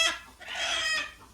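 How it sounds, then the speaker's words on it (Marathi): Brooding hens sitting on eggs at a village farm cluck close by in a short series of loud, bright, rhythmic calls, with no voices over them. "अंड्यासाठी बसल्यात कोंबड्या."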